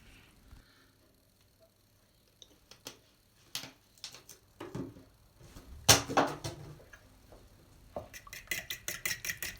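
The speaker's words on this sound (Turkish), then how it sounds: "Burada karıştırmaya başlıyoruz." Egg, water, salt and olive oil are whisked together in a bowl for handmade ramen dough: scattered light clinks and scraping taps, building to a denser run of quick rhythmic strokes near the end, with no talking.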